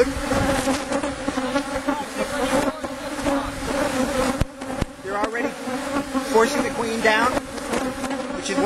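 Honey bees buzz loudly and close during a hive inspection, a dense wavering hum that rises and falls throughout, with a faint voice at times.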